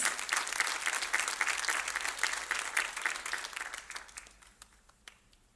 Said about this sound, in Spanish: puedes darle una ofrenda de palmas